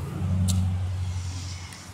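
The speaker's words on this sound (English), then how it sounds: "Sorry if you can't hear me because of the road and the cars." Low rumble of a car passing on a nearby road outside an abandoned buffet in Concord, New Hampshire, swelling briefly and then fading.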